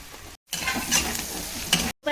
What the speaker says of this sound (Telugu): మనం మష్రూమ్ వేసుకుందాం.